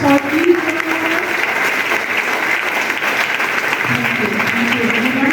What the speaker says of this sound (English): So can we have a huge round of applause for each one of us?